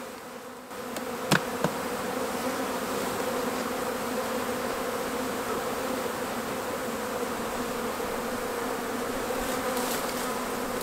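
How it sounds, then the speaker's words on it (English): Honeybees from a rescued colony in a hollow tree buzz in a steady, dense, close drone that holds unbroken throughout, with a couple of brief clicks near the start. "Nice clump of bees."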